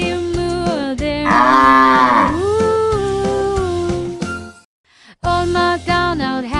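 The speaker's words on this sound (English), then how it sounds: "Old MacDonald had some cow, E-I-E-I-O. Moo, moo" Cartoon cow moos sung within a children's farm song, long sustained lowing tones over bouncy instrumental music, loud and continuous with a brief pause near the end.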